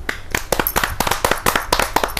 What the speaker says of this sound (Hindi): तालियों से स्वागत करेंगे।